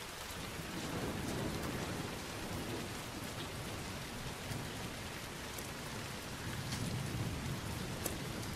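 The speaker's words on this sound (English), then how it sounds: "I'm starting to freeze with all this goddamn rain." Heavy, continuous video game rain from Heavy Rain pours down in a thick wash of noise, swelling slightly toward the end, with no voices.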